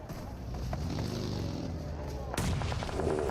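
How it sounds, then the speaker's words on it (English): Grenade explosions in a PUBG Mobile grand finals esports match: a steady rumbling din of in-game blasts, capped by one sharp, loud detonation near the end, all under a caster's excited commentary. "Nades on target."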